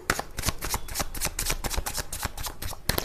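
Tarot cards being shuffled close up, a rapid, steady series of crisp flicking riffles that continues without pause for about three seconds.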